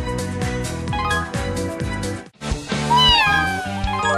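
Cartoonish cat meows from a mobile rhythm game's story scene, rising and sliding over bright looping background music, a couple of short calls near the end after a brief break in the music.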